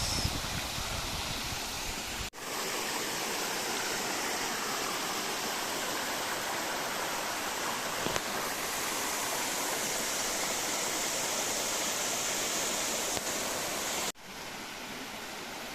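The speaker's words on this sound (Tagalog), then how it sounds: "Ay, ano ang lalim ng waterfalls." A tall waterfall at Labrador, Pangasinan, rushes with a steady, dense roar, broadband and continuous from near by, with a couple of brief cuts in the sound.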